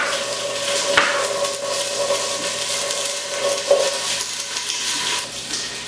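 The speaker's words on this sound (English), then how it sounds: "the reason that we're going to kind of slightly saute our vegetables is to release a little bit of their flavor" Large vegetable chunks sauté gently in the bottom of a stockpot for homemade chicken stock, a steady moderate sizzle broken by a couple of light utensil clinks.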